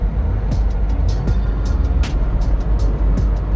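A small truck rumbles along while driving, a steady low engine drone with road noise and repeated faint clicks and taps above it.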